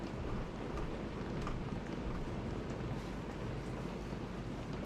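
Steady rain falling outdoors around a backyard garden bar shed, a dense, continuous hiss that stays even and moderately faint throughout with no voices.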